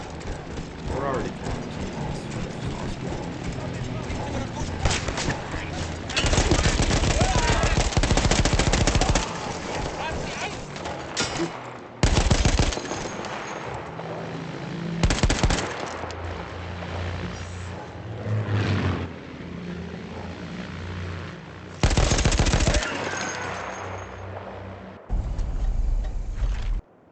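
Machine-gun fire in a World War I flight combat video game, coming in several loud, dense bursts separated by quieter stretches of other game noise.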